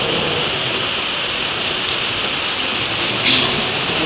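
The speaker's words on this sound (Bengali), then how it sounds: "প্রচন্ড পরিমাণে বৃষ্টি পড়ছে" Heavy rain lashing down during a cyclone storm over a garden of spinach, gourd and eggplant plants, a loud unbroken roar with a couple of brief sharper spatters.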